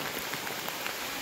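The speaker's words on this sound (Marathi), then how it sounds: "चला पाऊस पडतोय, घरी गेल्यावर बघूया." Heavy rain falls in Konkan, a steady, fairly quiet hiss with scattered drop impacts, brief and without any voices.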